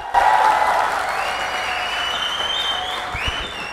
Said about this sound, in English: I request everyone round of applause